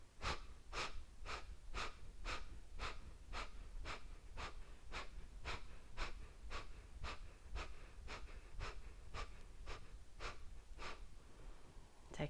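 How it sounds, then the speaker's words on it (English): Sharp, forceful exhalations through the nose during a yoga breathing exercise, about twenty quick evenly spaced puffs in a steady rhythm, close and alone. "Breathe into halfway. Sharp exhales out."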